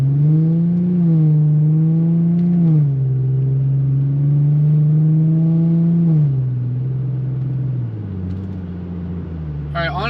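A Nissan VQ37 V6 with high-flow cats revs up from a stop, a loud, smooth exhaust drone climbing through several pulls with brief dips between shifts, then settling to a lower, quieter cruise.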